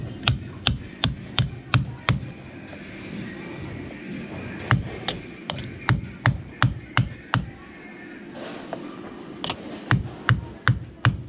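Sharp metal-on-metal hammer blows strike a screwdriver to drive a part off a Snyder Super Deluxe skate plate, landing in quick bursts of five to eight evenly spaced hits with short pauses between groups, close and loud.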